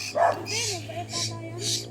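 A few short dog barks and yips, fairly close, in a rural Philippine province, with people talking over them and a steady low hum underneath.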